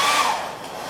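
A hair dryer blows on a freshly painted pumpkin, a steady close airy whoosh with a faint whining tone that dips slightly in loudness over the brief moment.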